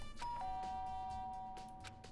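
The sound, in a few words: doorbell ringing in video game Danganronpa Trigger Happy Havoc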